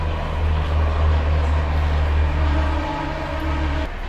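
A train, the Gatimaan Express, at an Indian railway station gives off a steady low rumbling drone with a sustained tonal hum, loud and near, easing slightly toward the end.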